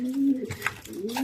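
Blue white-flight racing pigeon cock cooing close by, a soft low rolling coo repeated over a second or so, with brief rustling between calls.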